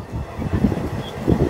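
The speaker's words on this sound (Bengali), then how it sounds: "আমাদের ট্রেন তার তৃতীয় হল্ট মেচেদাতে এসেছে" The Digha special train stands halted at Mecheda junction, heard as a low rumbling hum of the train and station with some wind noise, steady and close.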